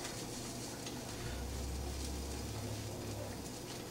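An egg cooking without oil in a Granitestone Armor Max nonstick fry pan, a faint, even sizzle holding steady throughout with no voices.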